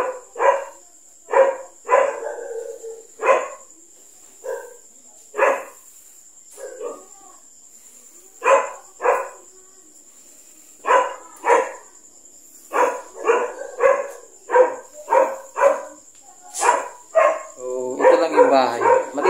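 Several dogs barking loudly in repeated irregular bursts, some barks overlapping, over a steady high-pitched hum throughout.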